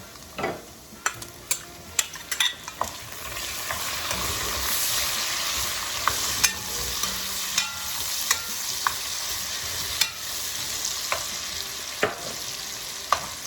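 Chopped green pepper sizzles loudly in a pan with smoked bacon for arroz con gandules, a steady frying hiss punctuated by sharp, regular clacks of a stirring utensil against the pan.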